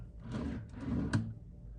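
A hotel room desk drawer slides open and shut in a short, close, scraping rumble that ends with a soft knock.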